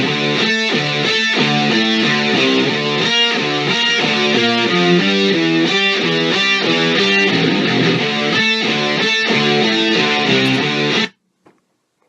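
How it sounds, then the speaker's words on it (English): A distorted electric guitar plays a loud, dense, rhythmic riff with repeating chopped notes throughout, cutting off abruptly just before the end. "DJ came up with this insane guitar part that sounds like this"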